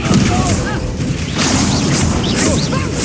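Spell explosions in Hogwarts Legacy combat, loud booming crashes layered with magical whooshes and bright shimmering effects, dense and continuous with a shouted voice in the mix.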